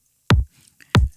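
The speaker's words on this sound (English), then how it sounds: "Now that's just more for the clickiness of the kick." Two punchy kick drum hits with a sharp clicky attack and deep booming tail, played alone and spaced roughly two-thirds of a second apart, from a reggaeton beat built in Logic Pro X.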